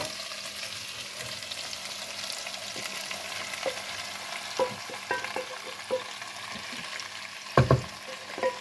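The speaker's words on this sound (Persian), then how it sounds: "حالا مرغا هم قشنگ سرخ شدن" Chicken sizzles steadily in a hot pan, a constant crackling hiss with a few light clinks and scrapes of stirring near the end, northern Iranian cooking.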